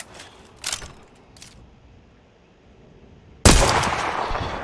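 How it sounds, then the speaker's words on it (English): A rifle bolt worked in the virtual reality shooting game Zero Caliber: a few quick mechanical clicks and clacks, then a loud burst of gunfire that sustains to the end, with no speech. "Kind of cant it to the side and run your bolt."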